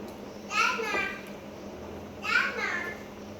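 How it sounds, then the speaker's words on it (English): Children's voices chatter and call out in two short bursts in the background, with a steady low hum underneath and quiet gaps between. "please ignore the noise. It's my children."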